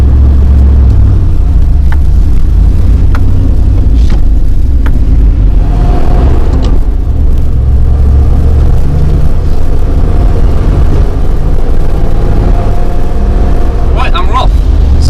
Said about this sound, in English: I've pulled the choke out probably quarter way, and that's a nice idle now